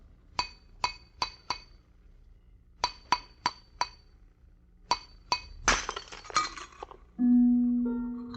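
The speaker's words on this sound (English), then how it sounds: "The glass you just heard broken was not ordinary glass" A hollow glass vessel moulded to the exact shape of a man's head is smashed, preceded by repeated sharp clinks in tight groups, then a loud crashing shatter with scattering shards, followed by a sustained low hum.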